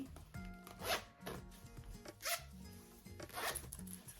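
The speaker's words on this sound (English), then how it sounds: "It's like a zipper baggie." Zipper baggie from a children's playkit being unzipped and handled, several short raspy zipping strokes and rustles close up, quiet, with no talking.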